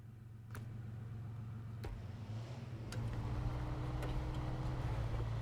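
A truck engine drives along a road in the off-road driving game SnowRunner, a steady low rumble that swells slightly louder partway through, with a few faint clicks over the drone.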